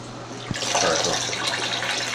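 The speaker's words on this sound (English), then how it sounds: "That's running water." Tap water runs steadily in a basement, a broad continuous hiss starting with a small knock and holding at moderate loudness throughout.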